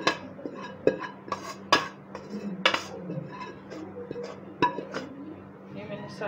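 Metal pan and utensil clatter as pizza paratha filling is scraped into a cooking pan, with sharp clinks and knocks at irregular intervals, close and fairly loud, over a steady low kitchen hum.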